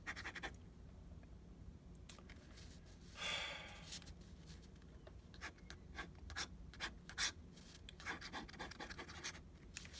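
Fountain pen nib scratching across paper in quick, close strokes, with a brief louder rub partway through and a run of sharp scritches near the end, quiet and alone.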